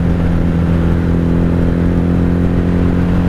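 A 1997 Honda Magna VF750C motorcycle with a V4 engine runs steadily and close, a smooth, even drone with a low hum and no talk.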